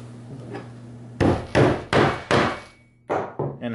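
Six sharp hammer blows strike a suspender button in quick succession, close and loud, with a brief pause before the last two lighter taps.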